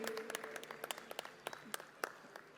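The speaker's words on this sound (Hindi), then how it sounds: "जोरदार तालियां इनके लिए।" Audience applause greets guests being invited on stage at a Sampoorna Ramayana show, scattered claps rising and falling from a modest crowd, heard at moderate distance in a hall.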